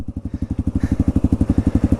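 Close, loud single-cylinder thumping from a dual-sport motorcycle, a Kawasaki KLR650 or Yamaha TW200, running steadily with a fast, regular pulse and a brief rougher burst near the middle.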